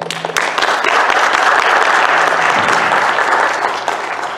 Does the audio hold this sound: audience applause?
yes